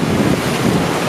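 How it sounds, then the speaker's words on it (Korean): Ocean waves crash steadily against the Bondi Icebergs saltwater pool in Sydney, a loud, continuous broadband wash of surf with wind buffeting the microphone, no pauses over the short stretch. "파도가 어찌나 시원하게 치는지 들어보시겠어요?"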